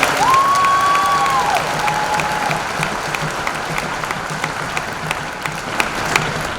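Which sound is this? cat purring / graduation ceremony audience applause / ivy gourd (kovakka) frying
graduation ceremony audience applause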